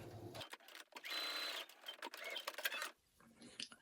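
A domestic sewing machine stitches the top edge of a tunic placket at a 5/8 inch seam allowance, running in a steady whirring burst for about two and a half seconds before stopping, with softer handling noise after.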